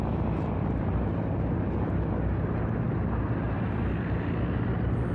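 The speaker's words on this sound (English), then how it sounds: "protecting my torpedo bombers that are trying to come home" Steady broadband engine roar of torpedo bomber aircraft in the naval video game World of Warships, continuous and fairly loud with no breaks, heard alone without talk.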